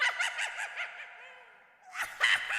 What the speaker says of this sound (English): So you've got Witch Cackle Laughter.